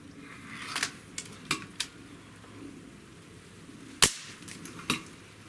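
Hatsan 125 Sniper Vortex air rifle fires a single sharp crack, loud and close, standing alone among a few fainter clicks and handling taps in a quiet setting.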